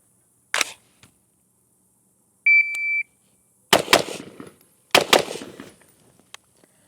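A Q Sugar Weasel pistol fired in a two-target shooting drill: a short electronic timer beep, then two quick pairs of loud, close, sharp shots about a second apart, with a stray isolated click earlier.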